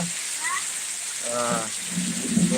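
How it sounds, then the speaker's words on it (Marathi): A heavy monsoon downpour keeps up a steady wash of rain noise while a person talks intermittently over it. "जोरदार म्हणजे एकदम जोरदार पाऊस चालू झाला आहे"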